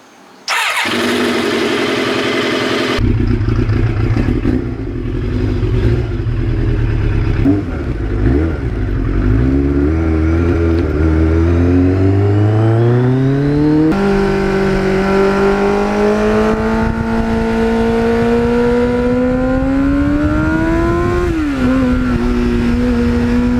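A 1989 Kawasaki GPX750R motorcycle with a Muzzy muffler starting up, then idling loudly and revving in long rising and falling sweeps, close and continuous, with no talk.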